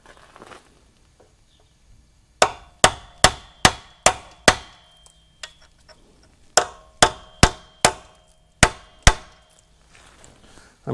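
A hammer strikes a punch against the crossmember rivets of a 2000 Ford F350 Super Duty dually: a run of six sharp metallic blows, a pause, then another quick series of about seven, close and loud in a quiet shop.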